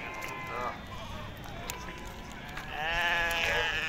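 Sheep bleat repeatedly at a busy weekly livestock market in Morocco, their wavering cries rising over a steady crowd murmur, with louder, closer bleats toward the end and people talking nearby.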